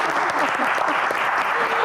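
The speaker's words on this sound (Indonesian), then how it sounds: "Tepuk tangan silakan." An audience at a Q&A event breaks into dense, sustained applause, many hands clapping at once in a continuous roar that fills the room.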